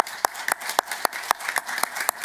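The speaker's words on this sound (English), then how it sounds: "I'll get everyone here to give you a big cheer to thank you for staying up late" A small audience applauds in a room, with sparse, evenly spaced individual hand claps and no cheering.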